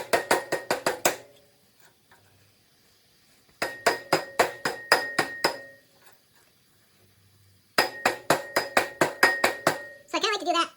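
Three loud bursts of rapid hammer blows, each a quick run of about six sharp metallic strikes, separated by quiet pauses while a part is driven onto dowels during repair of a broken dial micrometer; a brief clattering rattle follows at the end.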